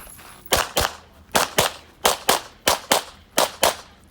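Pistol fired at a practical shooting match: five rapid pairs of sharp, loud shots, evenly spaced double-taps ringing out clearly with no talk.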